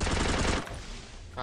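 Rapid automatic gunfire from the Free Fire battle royale shooter, a dense loud burst in the first half-second, then quieter game noise with a brief sharp sound near the end.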